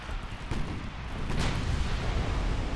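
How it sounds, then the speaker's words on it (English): Enemy cruiser's ammunition store detonating in a naval battle in Ultimate Admiral: Dreadnoughts, a sharp crack followed by a deep sustained explosive rumble that builds and lingers, with no talk. "we managed to detonate one of the ammo storages"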